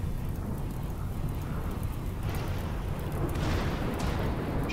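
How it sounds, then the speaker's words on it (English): Steady rain with thunderstorm rumble in the video game RimWorld, a constant broadband wash of falling rain that swells louder near the end, no voices present. "Another flash storm."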